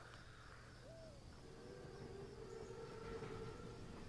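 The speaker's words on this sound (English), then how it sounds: "Train's right on time." A big armored German train in a Call of Duty WWII mission rumbles low and steady under a distant wailing siren-like tone, with the drone holding at a faint level from start to finish.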